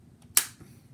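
A single sharp snap as the trigger of a Lego M416 rubber band gun is pulled, loaded with weak rubber bands, close and brief against near silence.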